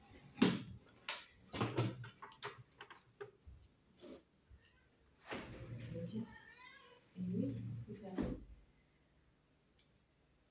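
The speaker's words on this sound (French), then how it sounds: "je vais ouvrir la porte à mon chat" A domestic cat meows a few times near an opening door, with someone talking indoors over it and some clicks and handling noises.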